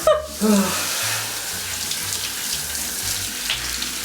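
Water runs steadily from a tap with a soft, hissing splash while rinsing dyed hair, after a brief clatter at the start; no talking.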